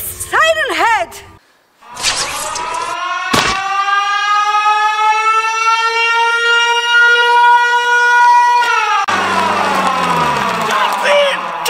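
A loud, droning siren-like wail from the monster Siren Head holds steady and rises slightly, preceded by short warbling tones and followed by shifting, distorted howls.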